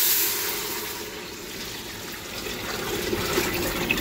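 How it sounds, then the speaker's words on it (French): Hot broth for pho poured into a pot, a steady close rush and splash of liquid that carries on without a break, with no talking. "Là, je vais aller dumper mon bouillon."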